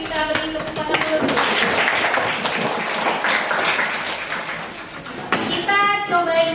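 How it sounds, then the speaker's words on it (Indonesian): A classroom of pupils at a junior high school claps together, a sustained burst of applause lasting several seconds, with children's voices heard briefly at the start and end. "kita beri tepuk tangan dulu"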